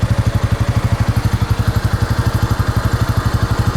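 Honda Rancher ATV fitted with a custom welded silent muffler idling up close, a steady, even low thumping pulse at a brisk regular rate with no speech.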